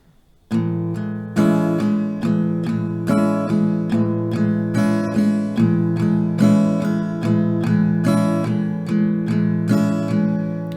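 Acoustic guitar strummed in an even rhythm of repeated downstrokes, a pattern of four downs, bass, bass, top, bass, each chord ringing clearly and decaying before the next; no one speaks.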